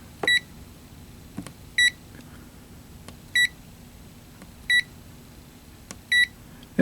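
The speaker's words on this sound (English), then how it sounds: "Audio beep." Evenly spaced short electronic beeps come from the audio beep circuit of a 1981 Midway Robby Roto arcade PCB under repair, five or six sharp tones about once every second and a half, with no voices.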